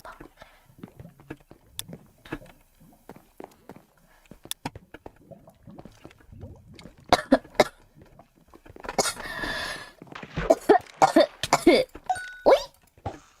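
A girl coughs repeatedly at close range: scattered soft bursts early on, then a cluster of louder, harsher coughs near the end.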